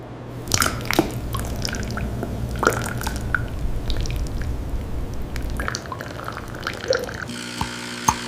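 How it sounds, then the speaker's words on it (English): Hot water dripping through coffee grounds in a paper drip filter, a string of small irregular drips and wet squishes over a low steady hum, close and fairly quiet. "hot water drips evenly from the nozzle above"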